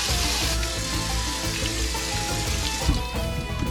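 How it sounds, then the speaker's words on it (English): Water and lentils pour steadily into a cooking pot, a continuous close rushing splash that lasts the whole few seconds without talk. "That goes into a pot with 4 cups of water."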